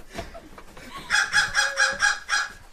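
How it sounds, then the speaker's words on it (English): Chickens at an animal sanctuary give a run of rhythmic, nasal clucks and squawks close by, about six pulses in quick succession after some quieter rustling. "What's up, birds?"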